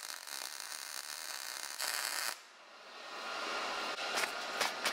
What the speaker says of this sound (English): let's do a quick weld here